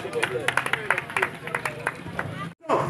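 Church congregation clapping in steady rhythm and cheering in praise, a dense crowd close by with voices and babble throughout, then a brief cutoff near the end before the noise resumes.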